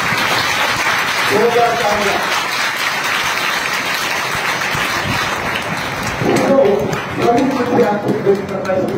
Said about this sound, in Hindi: यहोवा के नाम को धन्यवाद ताली बजा करके करें